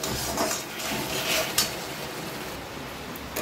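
A spoon scrapes and clinks against a pan while a thick date, raisin and tomato chutney is stirred. The contact sounds are close and scattered over a faint background sizzle, with no talking.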